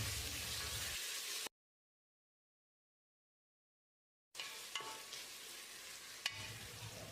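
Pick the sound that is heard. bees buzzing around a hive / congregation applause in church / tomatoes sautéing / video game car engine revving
tomatoes sautéing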